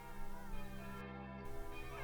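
Church bells ring as a faint, sustained, humming tone that lingers evenly throughout, heard quietly and with no voices.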